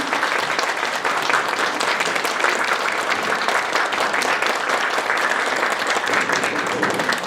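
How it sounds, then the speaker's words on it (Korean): A large audience at a South Korean election candidacy announcement claps loudly and steadily, a dense, continuous wash of applause that holds at full strength throughout without fading. "큰 박수 부탁드리겠습니다"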